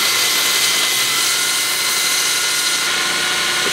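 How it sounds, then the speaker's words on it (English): An angle grinder flattens the end of a steel bottle opener punch held in a vise, giving a loud, continuous high-pitched grinding whine from start to finish, with no talk. "with an angle grinder. So, lock her in a vise here. Let's get that end nice and flat."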